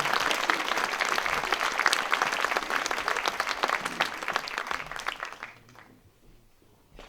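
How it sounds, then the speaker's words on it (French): An audience gives a presenter a warm round of applause, dense steady clapping that fades out over the last couple of seconds into near silence. "On va l'applaudir, notre présentatrice"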